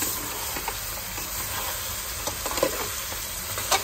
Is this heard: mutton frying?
yes